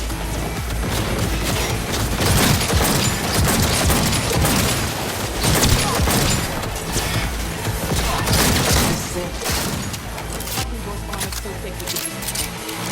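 Cyberpunk 2077 gameplay with turret gunfire, heard as sustained dense bursts of shots, crashes and clattering impacts throughout, loud and close, layered with game voices speaking.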